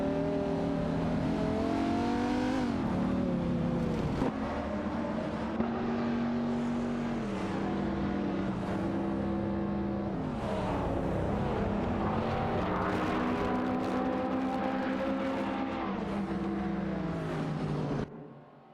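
Several race cars in an AI racing video game roar past one after another, engine notes rising and falling in steady accelerating sweeps, loud and continuous throughout with no talk.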